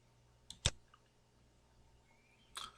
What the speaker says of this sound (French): je clique tout simplement sur OK.